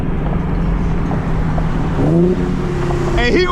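An Infiniti G37 engine revs hard with rising and falling pitch, loud and close, over a constant motor drone, with a voice briefly at the end.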